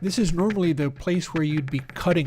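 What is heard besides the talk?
No everyday noise stands out behind the speech.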